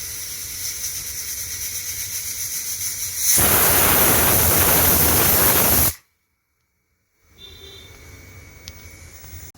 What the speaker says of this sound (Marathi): आपलं कुकर गार झालेलं आहे. आपण वाफ काढून घेऊ.